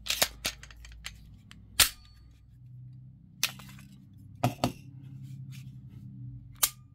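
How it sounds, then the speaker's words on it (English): A CZ P-10 C pistol dry-fired with no magazine inserted gives several sharp, close metallic clicks at irregular intervals, mixed with quieter handling noises, with no talk over them. "so we can fire without the magazine inside"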